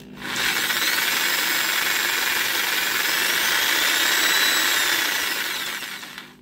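DIY automatic paint mixer, a trigger-driven power tool agitating a clamped paint bottle, giving a loud, steady high-pitched whirring buzz for about six seconds, then winding down, with no talk.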